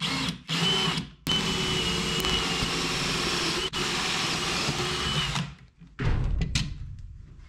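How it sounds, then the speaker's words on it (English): A power drill bores through a eucalyptus-wood tiller on a workbench, loud and steady whine in long bursts broken by brief pauses, ending with a few short revs. "I'm gonna end up drilling a hole through my bench"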